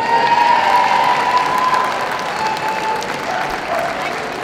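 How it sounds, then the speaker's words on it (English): An audience at the Manchester Championship Dog Show fills the room with sustained applause in the working group ring, a loud, dense clapping that slowly eases off toward the end. "Big round of applause, ladies and gentlemen,"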